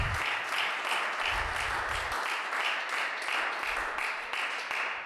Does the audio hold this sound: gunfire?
no